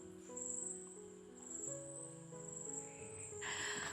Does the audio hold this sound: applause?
no